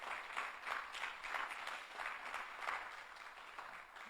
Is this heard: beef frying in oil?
no